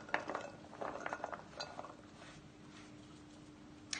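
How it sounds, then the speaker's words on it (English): Small pieces of goat's milk soap base dropped one by one into a large microwave-safe glass bowl: a run of close, light clinks and taps that thins out, then a final soft knock. "So we are just gonna put these little pieces one by one into our bowl"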